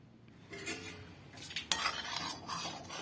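Thick rabri being stirred in a metal pan with a spoon, giving repeated scraping and clinking strokes at close range, with no voices.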